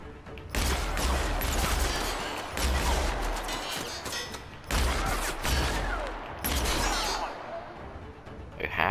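Shotgun fire in the video game The Outer Worlds booms repeatedly in heavy, loud bursts with deep low thuds, separated by brief pauses, while a voice talks over the action.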